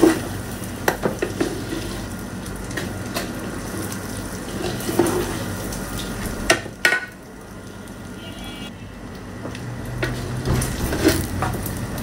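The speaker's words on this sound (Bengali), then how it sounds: "নাড়তে অসুবিধা, অনেকটুকু চাল তো" A large quantity of rice with turmeric and salt crackles and sizzles steadily in a pan while a utensil scrapes and stirs through it, with occasional louder knocks against the pan.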